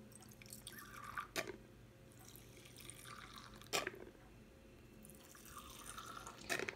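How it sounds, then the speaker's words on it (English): Water is poured into beakers holding biological washing powder, a quiet trickle and drip that comes in several short bursts with soft splashes, close by and alone. "I'm going to add some water."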